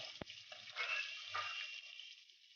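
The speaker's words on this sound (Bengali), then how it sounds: "মাছের মাথাটা দিয়ে দিচ্ছি তেলের মধ্যে। তেলটা গরম হয়ে গেছে।" Catla fish head dropped into hot oil, giving a brief clatter and then a soft, steady sizzle that fades gradually, close and fairly quiet.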